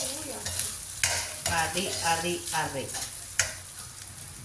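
Garlic and onions fry in a pan, producing a continuous sizzle with stirring clatter and a few sharp utensil knocks, while someone talks intermittently over it.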